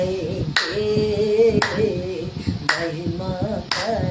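A worship meeting congregation claps hands together in sharp unison about once a second, loud and close, over ongoing singing and chanted praise.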